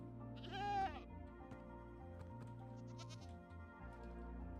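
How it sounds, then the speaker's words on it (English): A Minecraft goat gives one short, wavering bleat near the start, fairly close, over a soft background music bed that continues alone afterward. "The goat."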